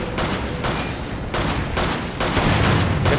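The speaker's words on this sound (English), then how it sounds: "Shoot it down!" Gunfire from Resident Evil 5 rattles in loud, sustained bursts of rapid shots. Brief gaps separate each volley from the next across the short stretch.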